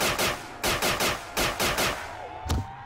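A gun fires in Garry's Mod nZombies, a Black Ops 2 zombies mode, in loud close shots, some in quick pairs and some single, roughly eight in all, with no talking.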